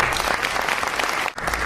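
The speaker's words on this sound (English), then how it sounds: "Give him a round of applause." Steady, full applause from a crowd at an interfaith dinner with a brief dip near the end, clapping dense and continuous.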